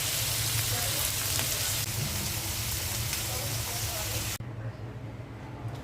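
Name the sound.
beef cooking in a pan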